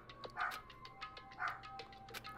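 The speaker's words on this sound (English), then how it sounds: "just wanted to check on my dog. He's barking at his tree like usual." A pet dog barks repeatedly at a backyard tree, giving two or three short bark bursts spaced about a second apart, faint and distant beneath a steady background hum, with no voices.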